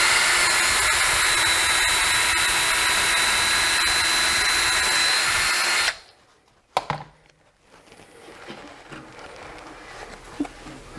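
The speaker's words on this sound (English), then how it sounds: "We're going to drill our hole" A power drill whines loudly and steadily for about six seconds while drilling a hole in a cabinet for a knob or handle, then stops, followed by a sharp knock and quieter handling noises.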